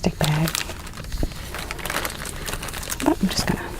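Plastic bag crinkling and rustling as small items are slipped back inside, close and continuous, with a voice talking over it.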